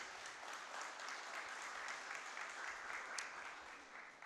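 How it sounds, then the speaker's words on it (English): Audience applause for students at an academic lecture, a continuous fairly faint patter of clapping heard from a distance, holding steady for several seconds. "Let's give them a round of applause."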